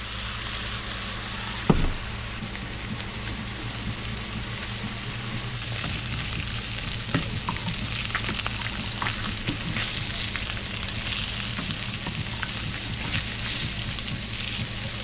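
Mushrooms coated in blackening seasoning fry in a pan with a continuous moderate sizzle, a sharp knock near the start and occasional stirring or shifting sounds, heard up close with no talking.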